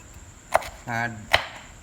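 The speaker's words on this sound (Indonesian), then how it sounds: "Daun jeruknya teman-teman potong kecil juga ya" A knife chops kaffir lime leaves on a board with two sharp, distinct cuts about a second apart, and a short buzzing tone sounds between them, close and clear.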